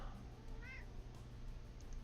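A house cat gives a short meow, a brief rising cry that stands out faintly above steady background hum and low noise, with no talking over it.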